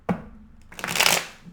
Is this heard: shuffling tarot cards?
yes